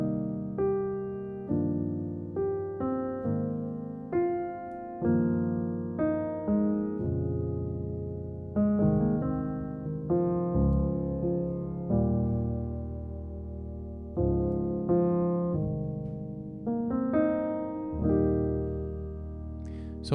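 Jazz piano chord progression that slides into another key almost seamlessly and then returns to the original, a steady series of rich sustained chords struck roughly every second, played alone and close.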